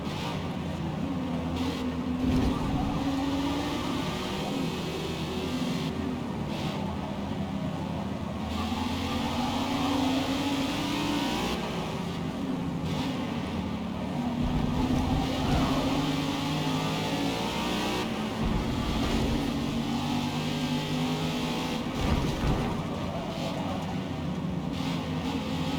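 Race cars in Forza Motorsport, a steady droning engine roar from a pack running close together, with pitch rising and falling through gear changes and corners, continuous and fairly loud throughout.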